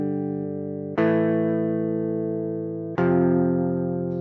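Ableton's stock Guitar Open instrument plays MIDI guitar chords, two sustained strummed chords with sharp attacks about two seconds apart, each ringing out and slowly fading, synthetic and dry.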